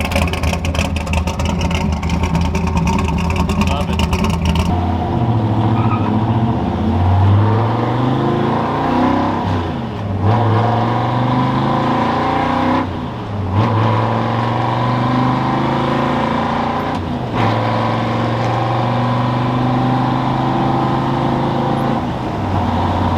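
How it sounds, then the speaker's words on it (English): A Ford F100 truck engine idles steadily while warming up, a loud continuous low rumble running throughout with a few brief dips in tone and no talking. "So you can hear it's idling away,"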